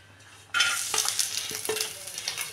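Oil hits a hot pan of roasting coconut and bursts into loud, crackling sizzle that continues unevenly, with occasional spoon scrapes and clinks close by.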